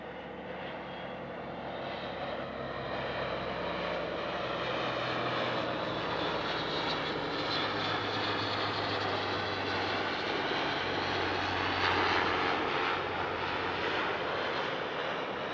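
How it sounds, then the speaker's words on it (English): An Airbus A400M and a 1943-built Douglas DC-3 (C-47A Skytrain) fly past together at an airshow near Paris, a loud continuous propeller and engine drone that swells slightly as the aircraft pass overhead. "Now we see the A400M flying in formation with one of its predecessors, and indeed our next display item as well, the Douglas DC-3."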